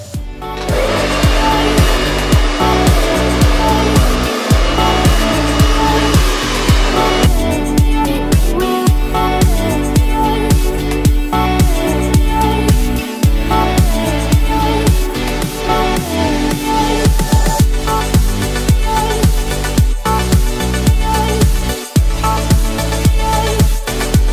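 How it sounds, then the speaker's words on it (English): Hair dryer blowing hair dry, a loud continuous whirring roar that stays steady throughout, punctuated by brief dips as the airflow is interrupted, no talking. "I'm going to start blow drying"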